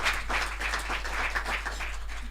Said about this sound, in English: Move clap for ordinary president.